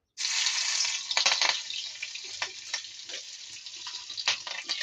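Oil heating in a pan bursts into a loud sizzle that settles into an uneven crackle with sharp spits and pops, close by and with no talking.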